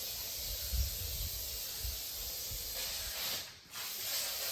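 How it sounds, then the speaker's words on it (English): A steady broadband hiss of aerosol fly spray runs throughout, with a brief dip near the end before the spraying resumes, fairly close, inside a flood-damaged house. "Found some fly spray out here. So we're gonna spray the house before we leave."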